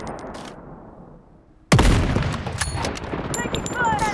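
Gunfire in the shooter game Blood Strike: after quiet ambient hum, a sudden loud burst of rapid shots erupts and continues as dense repeated firing, close and harsh.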